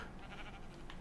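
A sheep bleats in a Minecraft modpack game, one short, muffled bleat heard faintly and alone over a steady low background.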